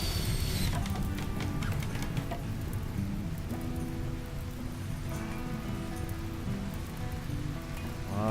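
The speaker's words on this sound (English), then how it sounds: "Well, that rain's gonna do it." Steady rain in RimWorld comes down as a dense, continuous patter with clustered drop impacts, fairly full and even throughout, with faint tonal game sounds underneath and no talking.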